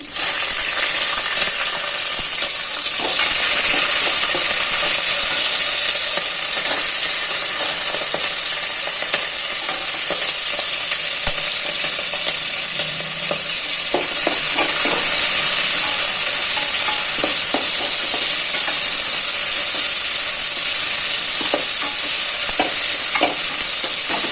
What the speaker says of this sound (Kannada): ಫ್ರೈ ಆದಮೇಲೆ ಹಸಿಮೆಣಸಿನ್ಕಾಯಿನ ಫಸ್ಟ್ ಹಾಕ್ತೀನಿ